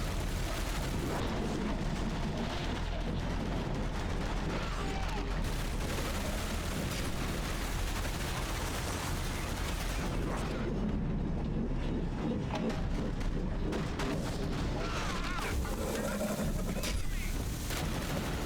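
Grenade blasts and gunfire rage nonstop during a firefight in the PS3 game Dark Sector, with dense volleys of shots and booming bursts packed close together.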